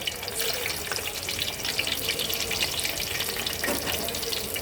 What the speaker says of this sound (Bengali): মাছ ভাজার জন্য কড়াইতে আমি তেল গরম করতে বসিয়ে দিয়েছিলাম এখন আমি এক এক করে মাছগুলো দিয়ে দেব